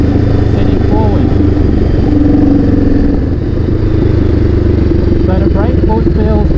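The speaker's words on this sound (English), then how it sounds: "all right, so I'll take it for a ride now and see what I think." A Honda Rebel 500 fitted with forward controls is ridden along, its engine a steady, close drone with a few rattles and slight changes in pitch, while a voice talks over it.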